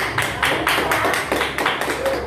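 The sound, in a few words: congregation applauding in church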